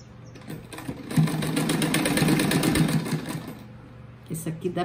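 A sewing machine runs in a sustained burst of rapid, even stitching while someone speaks over it, sewing small pleats into fabric for a fish-shaped rug with ruffles.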